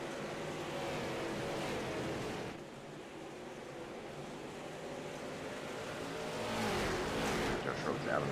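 Race car engines roar at the start of an iRacing video game race, a dense, steady drone of many cars that swells louder near the end, with a voice talking over it.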